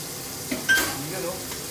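Chopped garlic sizzles in melting margarine in a pan, a steady close-up frying hiss with a brief stir or scrape partway through.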